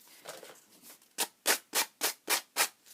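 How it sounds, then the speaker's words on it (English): Sandpaper rubbing along the torn edge of a paper journal page: soft, faint rubbing at first, then six quick, loud, evenly spaced sanding strokes close by, with no voices. "I usually just take some sandpaper and kind of get it off."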